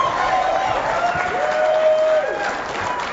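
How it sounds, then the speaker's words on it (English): A pool crowd at the Mosconi Cup 2011 applauds and cheers a rail carom shot, steady dense clapping with a murmur of voices throughout, fairly loud and sustained. "The crowd loved that shot."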